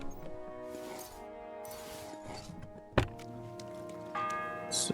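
A church bell rings in the medieval world of Kingdom Come: Deliverance II, its long tones hanging faintly behind a sharp thunk and other game sounds.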